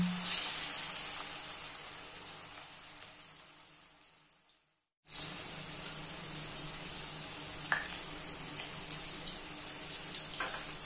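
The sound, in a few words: deep frying bitter gourd in hot oil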